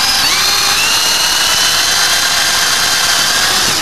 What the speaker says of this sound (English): just showing you here the 3mm bit on the end of the drill, just to drill in